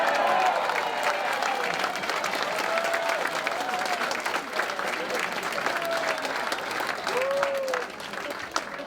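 An audience at a town hall in Nutley gives a sustained round of applause, dense and steady clapping that fills the room throughout, with some faint voices mixed in.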